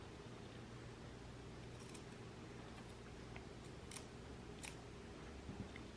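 Scissors snip excess fabric from a narrow hem during sewing, a few faint, short cuts scattered over a quiet, steady background hum.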